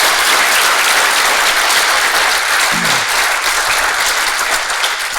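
A large audience gives a round of applause after a church conversation event, loud, dense clapping that stays full and steady from start to finish.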